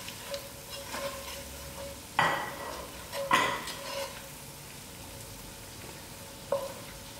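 Masala spices frying with onions in a pan give a quiet, steady sizzle, broken by a few sharp scrapes and clinks of a spoon stirring against the pan.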